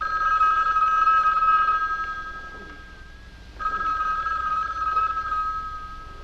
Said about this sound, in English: Before they can go any further, they are interrupted by a phone call.